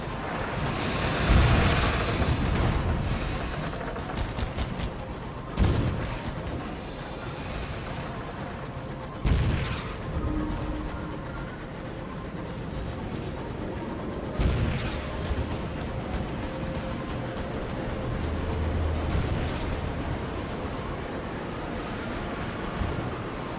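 Ship turret gunfire booms out in Sunless Skies, with several heavy blasts spaced several seconds apart over a constant roaring, wind-like background.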